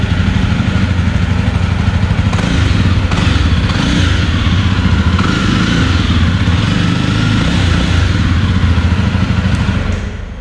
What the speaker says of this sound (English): I'll rev it for you.